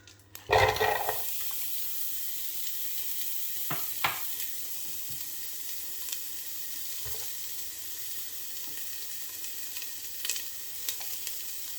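Onion frying in melted coconut oil in a medium-to-large saucepan gives a close, steady sizzle after an initial splashy burst, with a few faint clinks and scrapes along the way.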